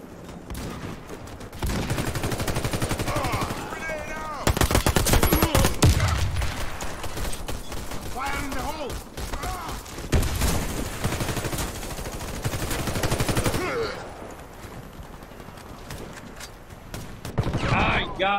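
H&K gunfire, dense rapid fusillades of shots that rattle loudly and keep going for long stretches, with short lulls in between. Speech can be heard faintly beneath the firing.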